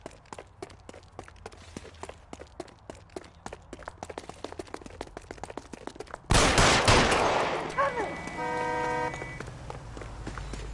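Gunfire in the video game L.A. Noire: a long run of rapid, sharp shots rattles on for several seconds, then a louder burst of noise and clatter follows with a ringing tone.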